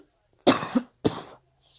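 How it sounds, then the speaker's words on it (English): Two sharp coughs in quick succession from a sick person, close and fairly loud, followed by a faint throat sound. "Excuse me for coughing."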